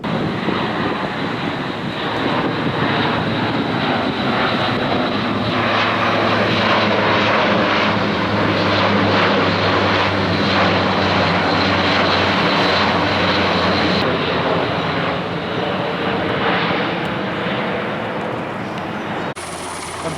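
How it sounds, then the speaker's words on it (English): Airplanes flying overhead during a military commemoration of Operation Market Garden near Renkum, a loud, continuous droning engine roar that holds strong throughout and dips slightly at the very end. "airplanes all day long were flying by"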